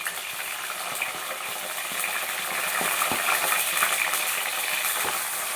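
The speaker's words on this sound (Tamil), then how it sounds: "நல்லா கோல்டன் நிறமாக வதங்கட்டும் பாருங்கள் நல்லா பூண்டும் வெங்காயமும் கோல்டன் நிறமாக வதங்கிடுத்து" Onion and garlic sauté in hot oil in a pan, a steady close sizzle and crackle that swells slightly partway through, with no voices.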